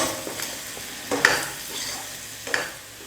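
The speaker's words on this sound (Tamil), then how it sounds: "எல்லாம் போட்டதுக்கப்புறம் 1 நிமிஷம் நல்லா வதக்கிக்கலாம்." Chicken varuval stir-fried with curry leaves in a pan: a steady low sizzle broken by a few sharp spatula scrapes and stirs, close and fairly quiet, with no talking.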